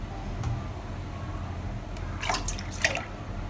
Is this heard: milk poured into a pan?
yes